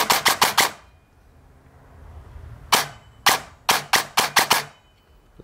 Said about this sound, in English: So here's some shooting for you guys.